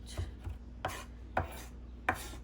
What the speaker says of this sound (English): So you keep chopping.